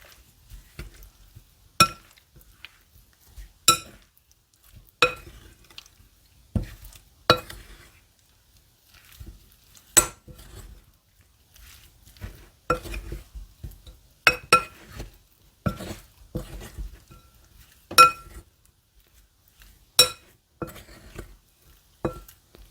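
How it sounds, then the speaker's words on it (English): Chicken pieces being coated in flour in a bowl, heard as scattered, irregular clinks and knocks with quiet gaps between them, close and fairly soft. "into the bowl and coat the chicken pieces."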